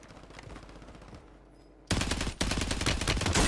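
Rapid automatic gunfire in the shooter game Warzone 3, a muffled burst, a short pause, then loud close dense volleys continuing to the end, with no speech.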